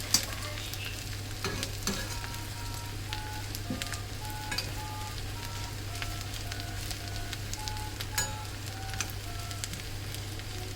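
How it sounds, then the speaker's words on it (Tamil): Spices crackling and sizzling in hot sesame oil while tempering for snake gourd kootu, a steady close frying hiss with scattered pops and occasional stirring clinks, with no talking. "இந்த மாதிரி இதை நல்லா தாளிச்சுக்கோங்க"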